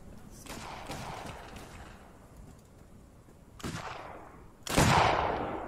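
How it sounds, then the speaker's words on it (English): Gunfire in Arma 3 booms out in a few heavy blasts that ring out and fade, the last one loudest and close, with quieter crackling shots in the background. "What are they shooting at?"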